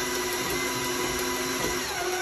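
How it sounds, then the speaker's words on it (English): An electric mixer whirs steadily while beating sugar into cake batter for an Easter coconut cake, a continuous close motor drone with no pauses and no talking. "I turn on this mixer"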